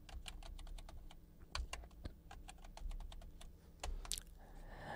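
Quick keystrokes on a computer keyboard as an e-sign PIN is entered, a run of light, crisp clicks in uneven rhythm, close and fairly quiet with no talk over them.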